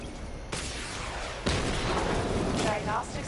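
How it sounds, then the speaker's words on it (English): A missile barrage launched in Batman: Arkham Knight, with loud booming bursts at intervals over a dense, sustained roar of game noise, while a voice speaks through part of it. "activate missile barrage"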